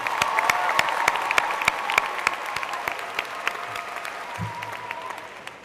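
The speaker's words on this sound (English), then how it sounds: "So I want everybody to give a round of applause to Ms. Ferran." A high school commencement crowd gives a round of applause in a large hall, steady overlapping clapping with a few sharper individual claps, fading slightly toward the end.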